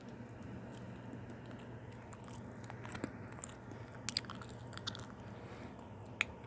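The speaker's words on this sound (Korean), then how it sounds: "그러면 한 입만 몰래 먹고 끝내겠습니다." Someone bites into and chews a Pokémon-branded chocolate pound cake, giving soft crunches and moist chewing noises close up against a quiet room background.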